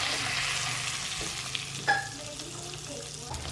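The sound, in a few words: shallow frying cooked chicken in pan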